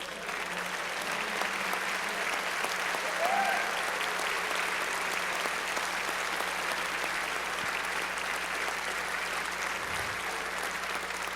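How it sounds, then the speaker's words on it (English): Sustained warm applause from an audience honoring members of Congress who stand at an award ceremony, steady and dense clapping throughout with a faint voice briefly audible. "give you a warm round of applause"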